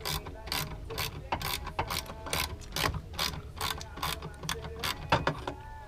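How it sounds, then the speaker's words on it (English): A hand ratchet backs out the last bolt holding a Kia Stinger tail light, giving a steady run of loud, close, evenly spaced clicks with no one talking. "you're going to remove the last bolt here in order to remove the whole entire tail light from the back"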